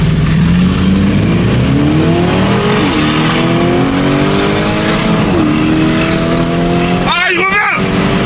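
Mansory SUVs accelerating in a race, loud engines revving and climbing through gear shifts with rising pitch sweeps, a brief tire squeal near the end, under excited voices.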